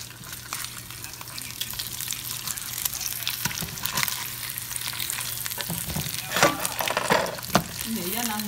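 Eggs frying in a home kitchen, a steady close sizzle with clattering stirs and scrapes, and a couple of sharper knocks toward the end.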